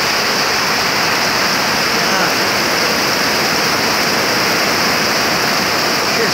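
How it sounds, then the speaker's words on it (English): Storm water pouring in during flash flooding on Florida's Space Coast, a loud, continuous, dense roar of rushing water close by, steady and unbroken throughout. "Water's just pouring in. It's like a flash flooding."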